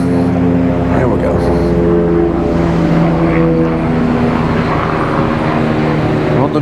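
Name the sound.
helicopter flying overhead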